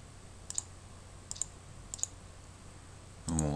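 Three quick pairs of light key clicks on a computer keyboard as a street name is typed into an address search, spaced evenly over quiet room hum, followed by the start of a voice.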